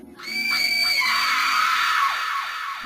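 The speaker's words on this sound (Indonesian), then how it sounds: "Makhluk itu menjerit, suaranya seperti bayi menangis kesakitan." A creature lets out a long, piercing, high wail like a baby crying in pain, loud and sustained for nearly three seconds with wavering pitch.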